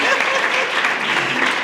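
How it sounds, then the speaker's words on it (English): A conference audience applauds the event's organizers, a loud, close round of clapping that stays dense and even, with a few voices faintly mixed in. "Can we have a round of applause for these beautiful ladies?"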